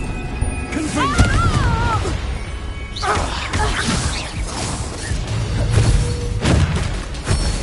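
Confringo spell blasts in Hogwarts Legacy, a series of sharp booming impacts and crashes with whooshing casts, mixed with combat clatter and a voice in the background.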